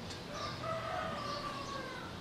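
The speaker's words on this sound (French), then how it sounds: "le coq qui chante aussi" A rooster crows faintly in the distance outdoors, a drawn-out call over a soft background hiss of wind.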